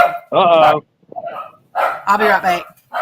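Dogs bark at the doorbell in a few short, loud woofs that overlap with a person talking nearby.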